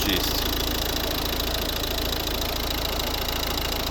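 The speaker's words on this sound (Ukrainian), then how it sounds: "Ось робота двигуна" A 2012 Volvo V50 1.6 D2 diesel engine idles steadily nearby, a continuous low rumble with a faint knocking texture and no breaks.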